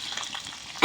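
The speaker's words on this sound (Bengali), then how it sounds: "খিচুড়ির জন্য আলু দিলাম ভাজতে" Potatoes frying in hot oil for khichuri give a soft, steady sizzle, brief and fairly faint.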